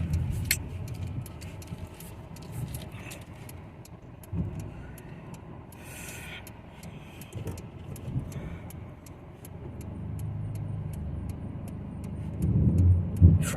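Steady street traffic rolls along A Street on Hayward's north side, a continuous low rumble of passing cars with occasional swells and faint rattles, heard from nearby.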